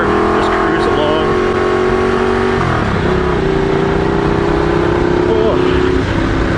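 A Ducati Diavel motorcycle cruises on a mountain road, its engine a steady, close drone with shifting pitch as it gears down and back up, mixed with continuous wind rush throughout.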